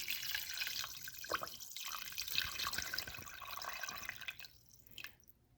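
Water poured into a pot over chicken, a faint steady splashing and trickling stream close by, tapering off near the end.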